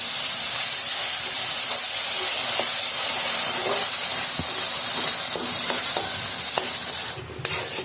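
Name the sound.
milk poured into roasting semolina with ghee and sugar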